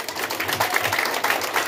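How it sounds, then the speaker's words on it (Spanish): An outdoor audience of neighbours and children at a clown show in Tepanco de López claps briefly, a short burst of scattered, fluttering applause at moderate volume. "a que le demos un aplauso para que su actuación sea más atractiva"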